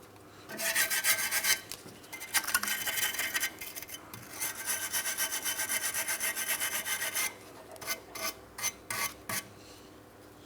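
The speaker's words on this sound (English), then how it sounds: "I'm going to clean this up using a wire brush" A wire brush scrubs rust and grime off the front control arm of a 2004–2008 Pontiac Grand Prix in harsh, rasping strokes, continuous at first and then breaking into short separate bursts, close and loud.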